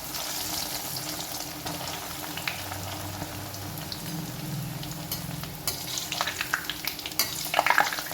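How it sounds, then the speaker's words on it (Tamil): Bread pieces deep frying in hot oil for a bread halwa, giving a steady, close sizzle and bubbling hiss throughout, with a few sharper clinks and crackles near the end. "இப்போ ப்ரெட்டை பொரிச்சு எடுத்துப்போம்."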